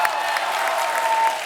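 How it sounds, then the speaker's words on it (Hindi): Studio audience at a celebrity entertainment show applauding, a loud, dense, continuous clatter of many hands with a faint steady tone running beneath, no talk. "उसके लिए भी तालियां होनी चाहिए."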